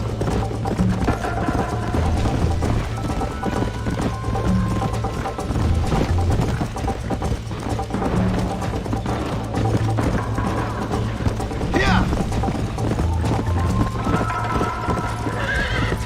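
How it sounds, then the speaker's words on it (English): Horses gallop in a race in the video game Red Dead Redemption, with dense steady hoofbeats running the whole time, loud and close, plus an occasional whinny and faint game sounds mixed in. "Muitos anos de GTA pra perder corrida de cavalo"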